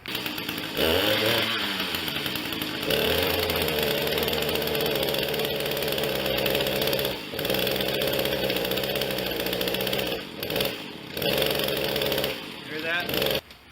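A small two-stroke ECHO engine buzzes loudly and steadily, its pitch rising and falling with throttle blips, cutting out briefly near the end before catching again.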